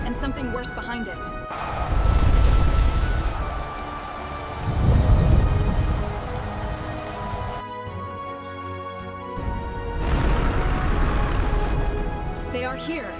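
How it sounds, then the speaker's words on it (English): Storm with heavy rain and rolling thunder, deep booming swells rising and fading twice over a steady wash of rain, with a voice speaking over parts of it. "A storm."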